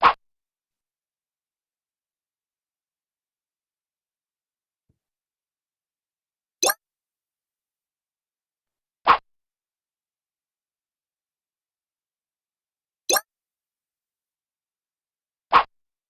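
Short sharp click sound effect for a check in a C# Windows Forms chess game, heard five times as isolated ticks separated by long stretches of silence.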